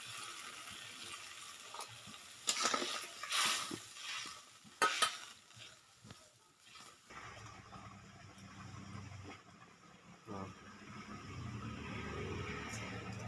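Fried shrimp go into a simmering radish sour curry, with stirring scrapes and gentle bubbling close up, a few louder clatters early on, then a steady low simmer.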